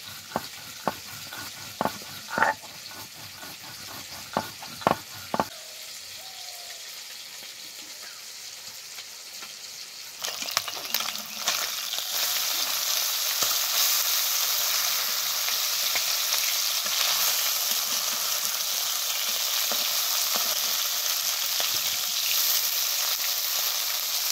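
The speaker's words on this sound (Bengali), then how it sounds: "ওইদিকে মাছটা ভাজা হতে হতে" Small chuno fish fry in hot oil. A few sharp taps come first, then a loud, dense, continuous sizzle takes over and holds steady to the end.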